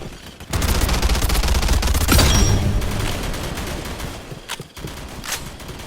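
Sustained automatic gunfire from a video game gun with a 64-round magazine, a dense rapid burst lasting several seconds, loud and close, then stopping abruptly before a few scattered trailing shots.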